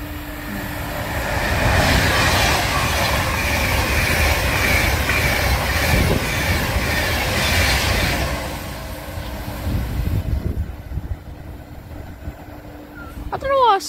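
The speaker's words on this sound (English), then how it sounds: "Here's another Pendolino." A Pendolino train rushes through a station at Rugeley Trent Valley as a loud, sustained roar that fades after about eight seconds, with faint rail squeal and rustling noise afterward.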